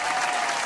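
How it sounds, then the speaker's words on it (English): A crowd or group applauds with steady, dense hand claps for a woman, continuous and fairly loud throughout with no pauses. "Hand claps for this woman"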